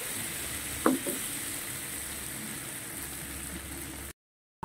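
Green chili being stirred in a frying pan while cooking fish with tausi and tofu, giving a steady low sizzle with a brief scrape of the utensil near the start before the sound cuts out.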